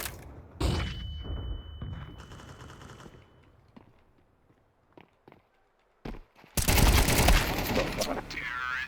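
A flashbang grenade and gunfire in a first-person shooter video game: scattered shots and footstep-like clicks, a quiet lull, then a loud sustained blast filling the last few seconds.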